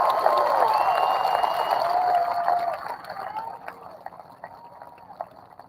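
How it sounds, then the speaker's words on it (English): Audience at a high school graduation ceremony applauds; the clapping starts dense and loud, then gradually thins and fades away. "Let's give them a big round of applause for this accomplishment"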